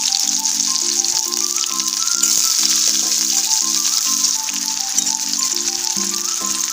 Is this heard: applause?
no